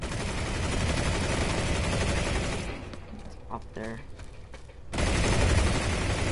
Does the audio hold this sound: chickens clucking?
no